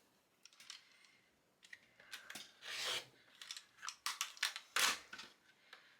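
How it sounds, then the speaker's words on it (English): Scissors snip through ribbon at an angle on a quilting mat, a string of faint, close, crisp cuts and rustles in quick irregular bursts. "just kind of cut it and hope for the best"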